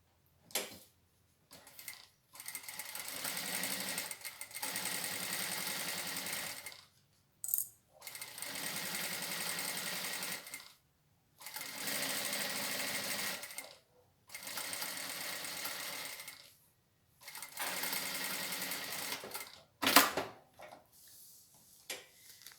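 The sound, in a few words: sewing machine stitching a safety seam along the edge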